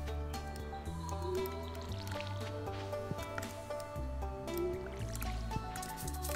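Splashy watering can effects from Stardew Valley water crops, small liquid drips and squishes repeating over a bed of game music, with no talk.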